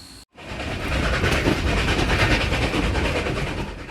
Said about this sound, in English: As the train pulls away from the historic Antonito depot